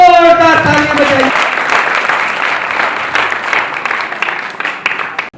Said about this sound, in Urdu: بادشاہ کے لیے زوردار تالیاں بجائیے